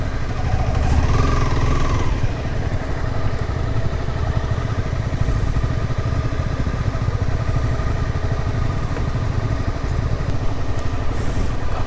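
A Honda CBR 250R sports tourer motorcycle engine hums steadily and close while riding a rough rural track, a continuous mid-pitched drone with a slight swell near the start and no talking.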